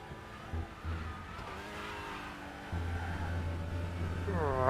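Touring race cars from the TCR class lapping in RaceRoom at Brands Hatch near Paddock Hill Bend: steady engine drone that rises into a revving, accelerating climb near the end, close and continuous, with commentary over it.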